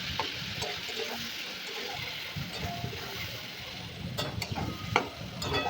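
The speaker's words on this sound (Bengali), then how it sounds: "দিয়ে ভালো করে কষে নেব।" Tomato and capsicum with turmeric being sautéed in a pan for a potato curry, giving a low steady sizzle under repeated stirring and scraping, with a few sharper clinks near the end.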